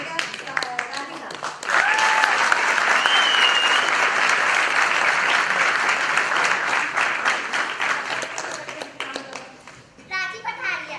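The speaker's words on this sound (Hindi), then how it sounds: "इसके लिए जरूर जोरदार ताली बजाइएगा" Loud audience applause at a stage performance, dense steady clapping from a large crowd that swells early, holds for several seconds, then thins and fades near the end, with a few voices mixed in.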